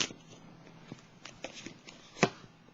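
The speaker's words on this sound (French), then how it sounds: "Je vais piger une carte sur la carte de la sagesse." Tarot cards shuffled and drawn at close range, a soft riffling rustle broken by several sharp card snaps and slaps, the loudest near the end, with no talking.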